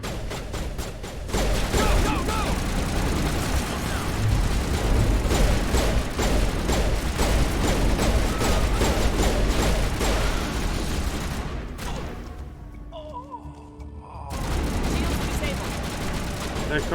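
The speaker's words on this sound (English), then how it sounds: "Turrets." Turrets in Mass Effect fire in a sustained, loud barrage of rapid gunfire that runs for most of the span, easing briefly near the end before resuming; a voice is heard in the mix.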